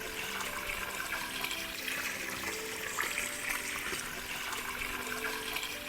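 Clear spring water from a mountain source near Skardu, Pakistan, flows in a steady, even rush of moderate loudness, with no voices over it.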